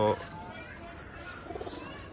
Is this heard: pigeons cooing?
yes